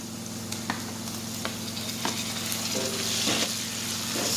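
Tomatoes sauté in a pan for chicken caldereta, a close steady sizzle broken by several sharp scraping clicks of stirring, rising into a louder burst of hissing near the end.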